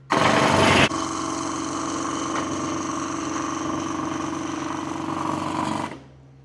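An electric motor on a Halo 4-post car lift starts with a loud burst, then runs at an even, buzzing drone for about five seconds before winding down and stopping.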